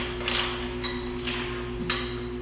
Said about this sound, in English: put a 3/4 inch wrench on each bolt and loosen it up